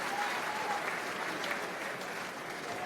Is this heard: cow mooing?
no